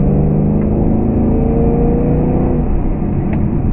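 A 2014 Shelby GT500 Mustang's supercharged V8 pulls hard under acceleration, a loud, deep, continuous rumble heard close from inside the car, with a rising whine layered over it.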